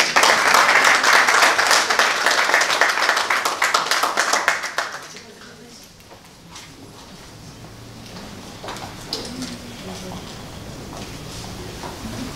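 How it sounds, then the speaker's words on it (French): An audience applauds and cheers models after a small product fashion show at a business meetup, loud dense clapping that fades after a few seconds into quieter room noise and voices. "Ils sont tous mignons, on peut les acclamer"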